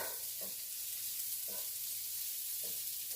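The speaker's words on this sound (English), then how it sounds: "I'm just going to let that melt in there." Butter sizzles steadily as it melts in a hot pan for smothered pork chops, a continuous close hiss of frying with soft stirring sounds and no talk.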